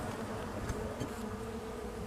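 Honeybees in a winter hive being counted give off a dense, steady buzzing hum, close and continuous, with a few brief louder flicks of individual bees passing near, and no one talking.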